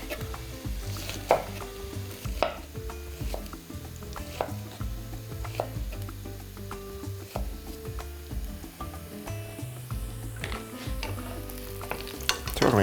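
Mushrooms and onion fry and brown in a pan, with a continuous close sizzle, frequent stirring scrapes and occasional utensil knocks over a faint steady background tone.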